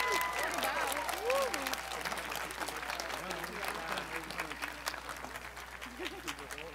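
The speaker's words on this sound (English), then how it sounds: "Give them a round of applause" An outdoor crowd applauds the seniors at a high school band concert, steady and fairly loud, with cheers and voices mixed in.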